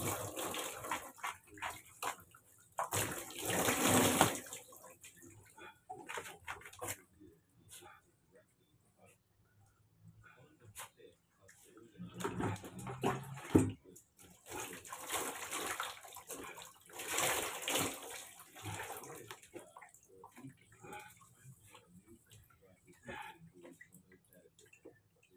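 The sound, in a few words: water splashing while rinsing during a bath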